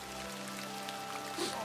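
Rain falls steadily in a soft, constant hiss of drops under a faint low hum, evenly sustained and moderately quiet across the short stretch.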